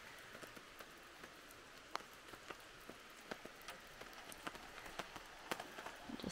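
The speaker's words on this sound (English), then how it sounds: "Put the awning out because it's raining." Rain patters on a van's awning parked on a side road beside a river, a steady soft hiss broken by scattered close drops and ticks, fairly quiet with no talking.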